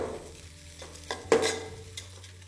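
Rice for chicken khichdi fries in a pan, with soft sizzling and a few scraping stirs and a sharp utensil knock partway through.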